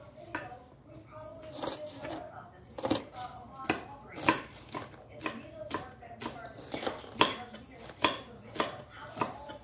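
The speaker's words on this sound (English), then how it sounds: "I'm just cutting up the onions and I'm going to put them in the bowl." A knife chops onions on a board in a home kitchen while cabbage and cod are being cooked, giving a steady run of crisp, close chops with a few louder strikes and low background noise.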